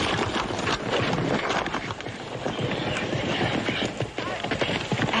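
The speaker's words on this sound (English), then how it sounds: "They got a little old horse over there all ready for you." Horse hooves clip-clop steadily and loudly on a western ranch setting, a continuous dense clatter with possible faint voices underneath.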